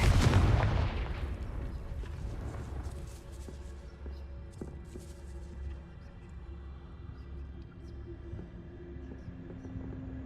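Confringo blasting curse in Hogwarts Legacy sets off a heavy booming explosion at the start, followed by a long low rumbling tail with faint crackles and distant thuds fading away.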